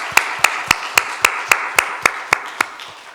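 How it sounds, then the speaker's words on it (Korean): A church congregation claps in unison, about a dozen sharp, evenly spaced claps in a steady rhythm, fairly close and clear with no talking. "박수를 한번 하겠습니다."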